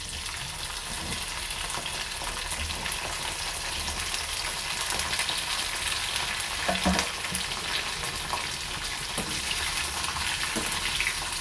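Okra pieces fry in a pan with a loud, continuous sizzle and crackle, with a few light stirring knocks partway through.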